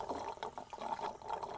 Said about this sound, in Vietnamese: Hai đứa con uống nước ồn ào quá.